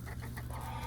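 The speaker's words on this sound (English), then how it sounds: "That's the only two big chickens I got down here" A large backyard chicken clucks softly in a short burst, close but quiet over low background noise, with no voices.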